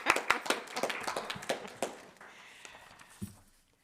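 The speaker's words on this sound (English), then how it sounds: "Little round of applause for Deputy Mayor" A small group at a town council meeting gives the deputy mayor a brief round of applause, scattered close claps that quickly thin out and fade to quiet.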